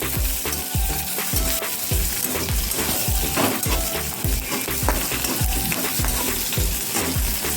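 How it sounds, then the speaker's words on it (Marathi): Garlic and cumin sautéing in chili oil, a constant loud sizzle and crackle with rhythmic spoon scrapes against the pan, close up and without talk. "छान असं परतायचं थोडंसं"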